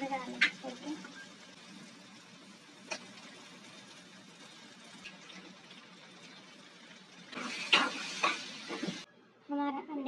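Egg bhujia with tomato, green chilli and oil sizzles quietly in a pan under a voice, then a louder burst of frying flares up before the sound cuts off.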